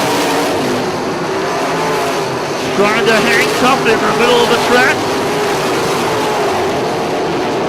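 Non-wing sprint cars race around a dirt oval, their engines roaring steadily and loudly throughout, with a few sharper surges in the middle as cars pass close, under continuous race commentary.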